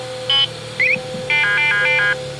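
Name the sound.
radar detector beeping in a Kia Optima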